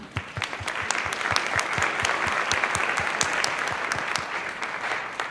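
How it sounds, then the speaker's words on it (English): Applause from a PTA Founders Day audience, steady and moderately loud, with a few sharper individual claps standing out over the dense clapping throughout. "So special applause to them"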